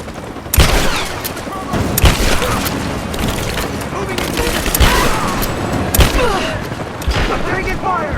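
Gunfire in Rise of the Tomb Raider comes as loud, close bursts and sharp booming shots that repeat every second or two over a constant battle din, with shouted voices in the mix.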